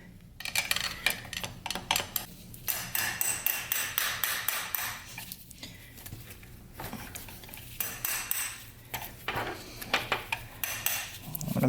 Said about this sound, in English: I'm going to get like a long push rod and actually work this filter out.